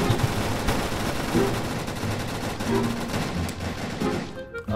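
Gunfire from several players in a video game, with dense overlapping rapid shots in a steady barrage that stays loud throughout and cuts off at the end.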